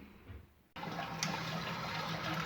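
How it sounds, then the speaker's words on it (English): Water suddenly starts rushing and hissing steadily inside a leaking Geberit concealed toilet cistern, continuing as a close, even refill flow. "So you can hear the water pumping out because a certain level has been lost and it's dropped down."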